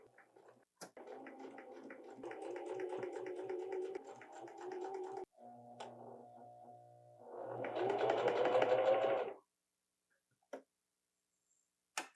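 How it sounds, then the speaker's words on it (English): A home sewing machine stitches the shoulder seams of an Edie top in two close, steady runs of rapid mechanical ticking with a short pause between, the second run louder and denser, then stops. "So let's sew them together, the shoulder seams."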